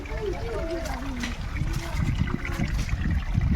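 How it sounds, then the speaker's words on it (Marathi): Water pours down from above into a tank near a forest stream, a steady splashing trickle that builds slightly over a few seconds while someone talks over it. "आपलं जे पाणी येतं वर ना बघा पाणी एवढं पडते आता"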